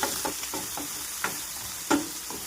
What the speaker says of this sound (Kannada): ಮಿಕ್ಸ್ ಮಾಡ್ಕೊಳ್ಳೋಣ.